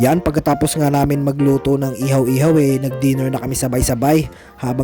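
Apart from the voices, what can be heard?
No everyday noises stand out.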